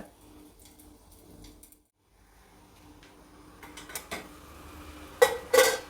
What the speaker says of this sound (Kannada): ಈಗ ಒಂದು ತಟ್ಟೆ ಮುಚ್ಚಿಬಿಡಬೇಕು